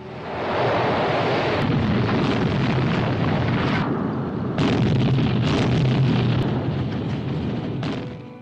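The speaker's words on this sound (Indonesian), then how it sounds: "Dan ledakan dahsyat pun terjadi bertubi-tubi." Heavy rolling explosions from fuel depots blown up in a desert battle video game, a dense continuous roar of blasts and rumble with sharper bursts layered on top, loud throughout with no voices.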